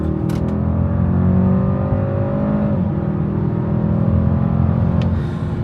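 A Mercedes-Maybach GLS600 with a twin-turbo V8 pulls hard at full throttle from inside the cabin, a smooth, steady engine drone rising in pitch, dipping briefly at a gear change, then climbing again.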